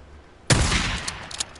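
Gunfire aimed at infected creatures in the video game Days Gone: a sudden loud burst of shots kicks in after a quiet start, followed by a few sharper cracks near the end.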